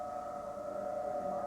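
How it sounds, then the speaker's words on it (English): Civil defense all-clear siren sounding over Kuwait City, a steady sustained wail holding a constant pitch throughout, loud and continuous with no speech. "we're getting the all clear over here, the siren going off"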